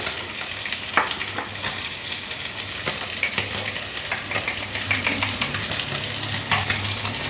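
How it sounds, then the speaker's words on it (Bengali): Vegetables sizzle steadily in a hot pan for Tangra fish curry as water goes in, with soft stirring scrapes and occasional utensil taps over a continuous frying hiss. "এবারে জল দিয়ে দেবো সবজিটা একটু ঝোল রাখবো তাই জলটা একটু বেশি দিয়ে দিলাম"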